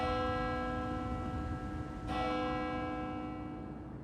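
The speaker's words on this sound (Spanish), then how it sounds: "La campana que suena en la iglesia de Barmen" A medieval church bell in Barmen rings out with a single loud strike around the middle, its long shimmering tone and overtones decaying slowly over the surrounding hum, with no talking.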